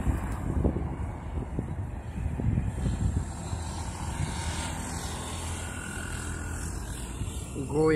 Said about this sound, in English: GoAir flight arrives at Veer Savarkar International Airport, Port Blair.